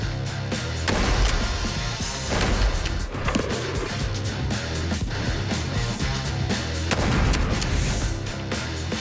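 Combat rifle shots fired at grenades thrown into the air boom heavily and repeatedly, with loud, reverberant blasts and crashes rolling over each other in a dense, continuous barrage.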